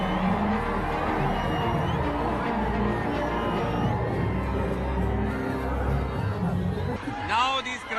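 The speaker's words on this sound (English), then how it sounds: "Now these crowds have come to cheer you." A large outdoor crowd of supporters of BRS leader KT Rama Rao cheers and chatters continuously, with shouting children and whoops in a dense roar and higher shrill shouts near the end.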